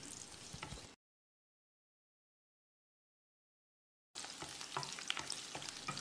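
Diced bell pepper sizzles and crackles in hot oil in a kadai with occasional stirring scrapes, cut by a few seconds of complete silence in the middle.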